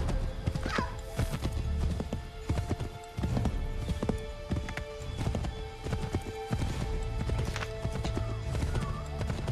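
Steady clip-clop of horse hooves trotting continuously in the video game Assassin's Creed 3 on Xbox 360, fairly close, with occasional snorts over a low background rumble.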